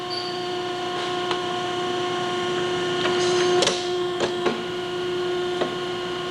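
A Model 1003 SA2P press punches holes in a bent tube over a mandrel, a steady machine hum with a few sharp clunks and clicks of the punch cycle.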